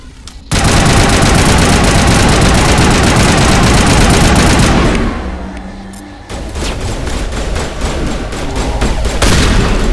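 Rapid, loud automatic gunfire from Mass Effect rattles almost continuously, pauses briefly, then resumes in close, sustained bursts.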